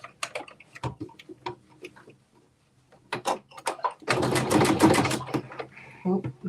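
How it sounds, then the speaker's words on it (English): A sewing machine stitches a 5/8-inch seam over gathers on a knit top, a fast rattling needle run starting partway through with short bursts of ticking before it, while someone talks in between. "now I'm going to stitch that down using 5/8 of an inch seam allowance"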